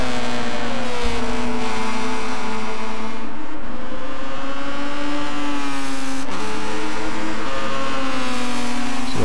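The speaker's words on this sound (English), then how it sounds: "There's these two guys in the red cars trying to catch on Savage." Race cars in a video game round of the Red Bull X2014 Junior Championship drone loudly and continuously, engine pitch rising and falling through the gears, with no talking.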